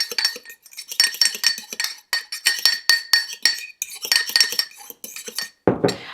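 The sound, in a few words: spoon stirring mug cake mixture in a coffee mug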